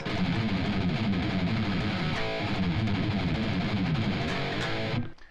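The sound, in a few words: distorted electric guitar riff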